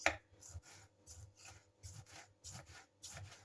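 A knife dices a medium pink tomato with its thin skin left on into small cubes on a board: quick, regular, close chopping taps with soft wet scrapes between them, quiet and without talk.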